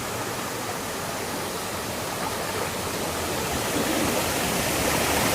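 Waterfall near Kumbichal Kadavu bridge in Amboori, a constant broad roar of rushing water, close and loud, swelling slightly toward the end with no voices.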